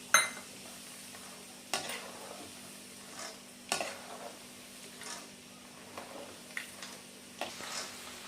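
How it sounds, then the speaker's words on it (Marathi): Peanuts frying in hot oil in a kadhai for Diwali masala chivda, a quiet steady sizzle under occasional scraping clinks of a spoon against the pan. "तर आपण आधी शेंगदाणे तळून घ्यायचं आहे"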